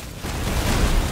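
Explosions in Deep Rock Galactic Survivor, a dense rumbling burst that swells after a brief quiet start and holds loud and continuous to the end, with no voices.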